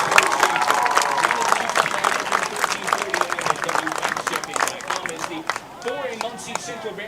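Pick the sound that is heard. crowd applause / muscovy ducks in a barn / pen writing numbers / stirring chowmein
crowd applause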